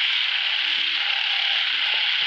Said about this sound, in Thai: นี่เสียงอึ่งตัวพี่